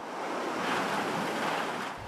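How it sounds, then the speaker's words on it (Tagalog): Strong typhoon wind roaring through trees in Santa Ana, Cagayan, with surf-like gusting noise filling the whole stretch, loud, steady and close, with no voices. "Halos iwas-iwas ng malakas na hangin ang mga puno sa bayan ng Santa Ana sa Cagayan"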